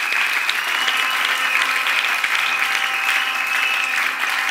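A church congregation applauds in steady, sustained clapping that fills the whole stretch, dense and even, with a faint sung or held tone running underneath.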